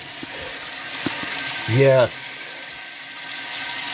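Water rushes into a toilet tank after a quarter-turn red-handled ball valve is opened, a soft steady fill running through the clip beneath a few clicks, a short burst of speech and a brief louder gush.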